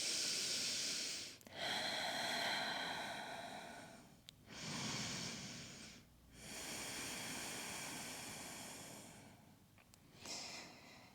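Slow, deep breathing during a gentle yoga flow for stress relief: long airy inhales and exhales close to the microphone, with brief pauses between breaths, quiet and unhurried.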